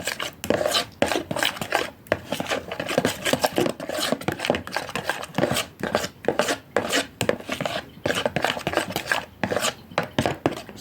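Garlic, yogurt and lemon juice being mixed into a creamy sauce, with a steady run of close, rapid scraping and tapping strokes against the bowl, no voices.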